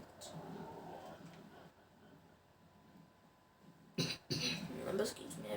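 A few harsh, close coughs burst out in the latter half, with throat clearing mixed in, after a quieter stretch of low background murmur.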